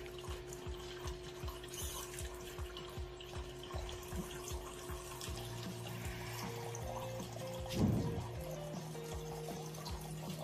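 Water runs steadily from a tap for drinking, a continuous faint splashing stream, with a brief louder gush near the end and some low background noise.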